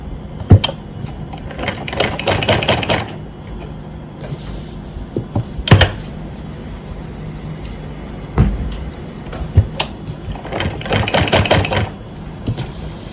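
Sewing machine stitching pleats into a salwar, running in several short bursts of rapid mechanical clatter separated by pauses, with clicks and handling knocks between runs and no talking.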